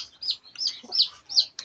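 Zamboanga White chickens, white-feathered roosters, cluck in short repeated high calls, about five quick bursts close by.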